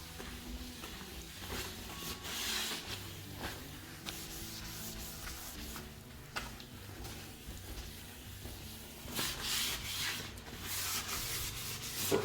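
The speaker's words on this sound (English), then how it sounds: "now we can start wiping this off" A rag wiping a surface cleaned with WD-40, giving soft continuous rubbing strokes that come close. They swell in intensity near the end, with no talking.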